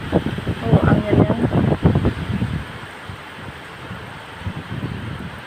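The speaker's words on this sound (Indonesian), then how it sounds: "Oh, anginnya." Strong storm wind gusts on an upper-floor rooftop in Taiwan, buffeting the microphone in loud bursts that fade to a steady lighter rush, with a voice speaking briefly over the opening gusts.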